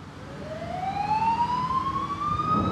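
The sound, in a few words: emergency vehicle siren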